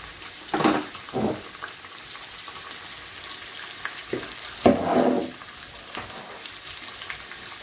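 Onion, spring onion and mushroom frying in a pan for a Chinese stir-fry, a low steady sizzle with a few louder bursts of crackle as the food is moved.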